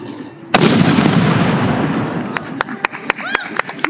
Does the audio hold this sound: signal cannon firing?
yes